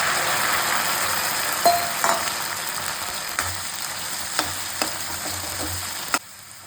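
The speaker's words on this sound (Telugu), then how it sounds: "ఆయిల్ వేడైన తర్వాత ఈ బెండకాయ ముక్కల్ని దీంట్లో ఫ్రై చేసుకోవాలి." Okra pieces sizzle steadily in hot oil, a dense frying hiss with a few sharp clinks and stirring scrapes scattered through, ending abruptly.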